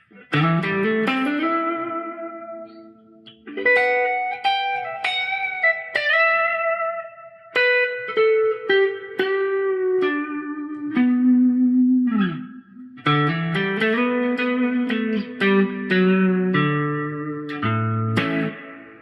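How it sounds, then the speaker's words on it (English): Guitar played through the plate reverb setting of an Oceans 11 reverb pedal, chords and single notes ringing with a smooth lingering tail, loud and continuous without talk. "It's a nice reverb sound."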